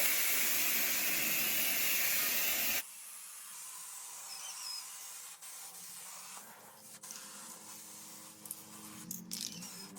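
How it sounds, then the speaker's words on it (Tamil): A close, loud hiss of a black spray paint can coating a rusted metal grill in one continuous burst that cuts off abruptly, followed by quieter scattered handling noises. "இப்போ ஈஸியா அடிக்க நம்ம பெயிண்ட் கடையில இருந்து கருப்பு கலர் ஸ்ப்ரே பெயிண்ட் வாங்கியிருக்கோம்"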